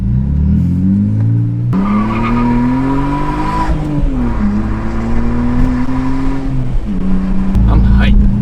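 A BMW E46 fitted with a Canadian catback exhaust pulls away at night, its loud, steady engine drone rising and shifting pitch as it drives off, with some tire noise and voices talking over it.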